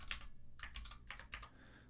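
Keys clatter on a Mac computer keyboard in short bursts as shortcuts are typed, making several quick clusters of crisp taps close by in a quiet room, with no voices.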